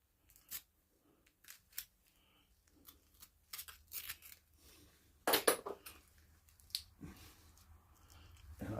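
Knife slicing through the hide on a whitetail deer leg from the butcher, a series of faint, short cutting and scraping strokes with irregular gaps, one sharper louder scrape midway and rustling handling toward the end.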